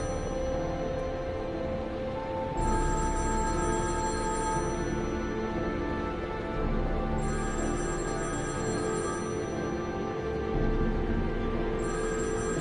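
A telephone rings in repeated bursts, roughly every four to five seconds, over low indoor background noise in a tense game scene.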